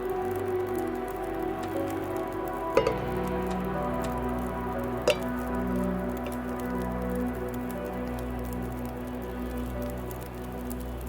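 A pot of water is set over a campfire in The Long Dark, with a steady crackling, hissing fire throughout and two sharp clunks early on, no talking.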